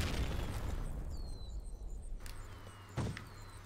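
A bazooka blast in the blocky shooter Guncraft lands as a muffled boom under continuous game noise, followed by a second sharper burst near the end amid electronic effect tones.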